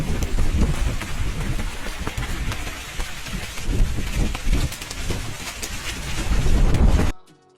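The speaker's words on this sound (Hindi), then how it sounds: "और यहाँ मौसम काफ़ी तूफ़ानी हो गया।" Steady heavy rain in stormy weather on an island in Hong Kong, a loud continuous wash of drops with gusty swells, cutting off abruptly at the end.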